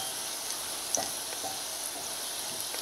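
Puffball mushrooms frying in a pan give off a quiet, steady sizzle with faint crackles and one small pop near the start.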